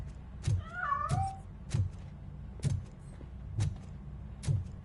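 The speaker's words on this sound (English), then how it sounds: "That cat must be hiding inside." A cat in the video game Robocop: Rogue City gives a single wavering meow amid a series of regular dull thumps repeating about every second.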